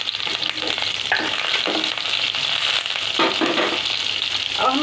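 Chopped garlic and green chilli fry in hot oil with carom seeds in a pan for a macaroni dish, giving a steady, close, loud sizzle with bursts of crackle as the pan is stirred, and no talking.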